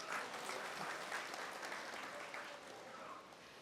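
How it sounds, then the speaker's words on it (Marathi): Audience applause at a health awareness event, steady dense clapping throughout, fairly faint and distant, tapering slightly toward the end. "म्हणून तुमच्यासाठी जोरदार टाळ्या."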